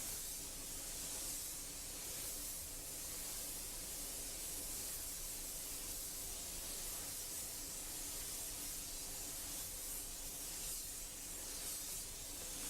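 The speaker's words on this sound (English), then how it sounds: "now I'm just spraying on aluminium medium" Airbrush spraying a medium coat of aluminium paint at 40 PSI during custom painting, a steady, even hiss of air and paint mist running unbroken throughout at moderate level with no talking.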